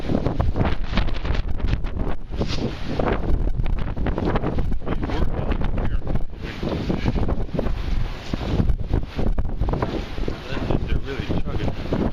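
Tugboat engines chugging hard on open water with stern thrusters running, a loud continuous broadband rumble mixed with heavy wind buffeting, steady throughout at close range.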